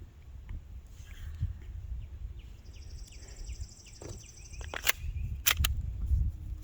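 An APS Shark 4.5mm CO2 air pistol fires a few sharp cracks near the end, each a brief snap with metallic ring, after quieter clicks and handling noise, set against faint outdoor birdsong.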